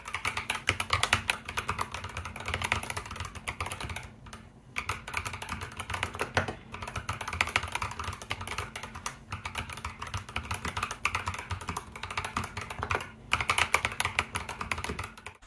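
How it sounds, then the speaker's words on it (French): Steady, fast keyboard typing with clacky keystrokes running continuously, close up and fairly loud, with a couple of brief pauses. "c'est un clavier qui est incroyable, je vous mets un petit sound test maintenant"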